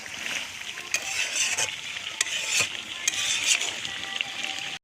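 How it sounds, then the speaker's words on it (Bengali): Spice paste for duck curry sizzles and hisses steadily in a pan as water is poured in, with a few sharp clinks of stirring over the continuous frying noise. "মশলাটা যে কষে যাবে সে দিয়ে দেবে জল।"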